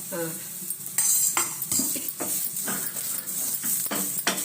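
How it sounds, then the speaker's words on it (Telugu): Spoon scraping and clinking in a pan as ground peanut, garlic and chilli spice powder is mixed into a capsicum fry, with a light sizzle beneath and a voice speaking over the stirring. "ఇదంతా బాగా కలుపుకోవాలి."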